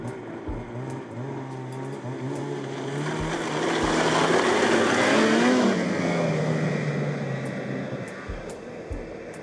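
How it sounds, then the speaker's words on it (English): A snowmobile engine in Greenland rises to a loud, close roar as the machine passes, then fades, with steady motor drone before and after the pass. "but they're still riding snowmobiles."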